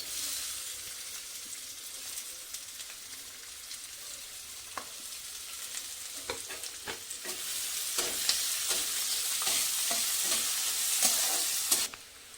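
A steady, bright sizzle of sliced onions frying in hot oil with bay leaves and whole spices runs throughout, with occasional light scrapes and crackles on top, close and continuous.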